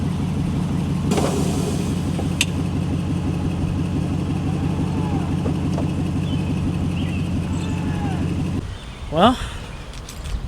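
A VIP-style Lexus LS400 with its front bumper nearly on the ground idles with a steady, low rumbling drone, then cuts off, followed by a few clunks and rattles.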